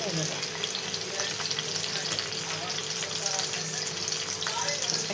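Green chillies frying in hot oil give a dense, continuous crackling sizzle that stays loud and even from start to finish, with no talking.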